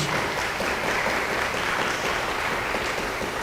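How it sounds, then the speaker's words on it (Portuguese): Church congregation applauding loudly during a live worship service: a continuous, even wash of many hands clapping from start to finish, with no voices standing out. "Aplaude ao Senhor bem forte em nome de Jesus"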